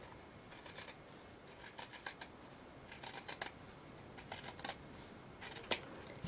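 Scissors cutting through folded fabric to shape a circle, producing faint, close snips in small clusters of quick crisp cuts against quiet room noise.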